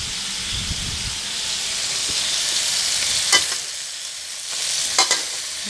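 Pork and asparagus with roasted chili paste fry in a pan, giving a steady close sizzle and hiss broken by a few sharp stirring scrapes, with no talking.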